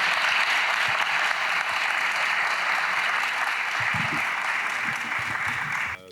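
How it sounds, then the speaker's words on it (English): An audience at the IE2025 education conference of Ghana ASCD applauds to welcome Dr. Charles Yeboah, a sustained, even roar of many clapping hands at steady volume that stops abruptly at the end. "Ladies and gentlemen, with a round of applause,"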